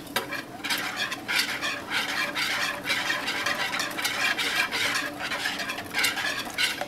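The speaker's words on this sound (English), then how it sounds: "your eggs are completely whisked up, because you don't want chunks of white and chunks of yellow" Eggs being whisked in a bowl: a steady, rapid scraping and clicking that beats continuously, close and moderately loud, with no voices.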